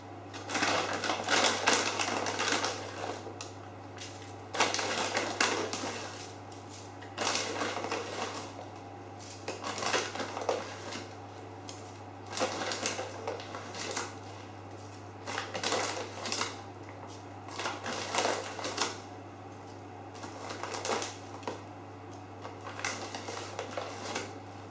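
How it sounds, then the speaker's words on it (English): Brown sugar is scooped in nine heaped spoonfuls into a bowl, each scoop a soft gritty scrape and pour, coming in a steady repeating rhythm close by. "And then into that we're going to add some brown sugar"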